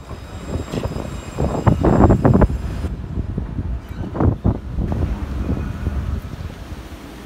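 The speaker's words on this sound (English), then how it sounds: "So you got everybody going on the tram." A tram in France runs along a city street, its rumble and clatter rising and falling in waves with a few louder surges, mixed with wind buffeting the microphone and outdoor street ambience.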